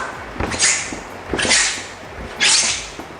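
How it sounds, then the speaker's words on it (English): Bare hand rubbing a polished Myanmar lacquerware surface until it squeaks, three slow strokes each giving a rising, hissing squeal, close and clear with no talk. "the surface of lacquerware has become squeaky like this"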